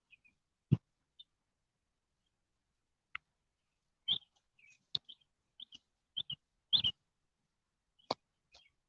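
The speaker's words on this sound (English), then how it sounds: "Listen to the birds." Scattered short chirps and high calls from birds among oak trees, sparse and fairly faint against near silence, with brief gaps between notes.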